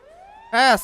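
Fire truck siren in the video game GTA, heard as a short rising wail that swells suddenly, loud and close, with a voice briefly over it.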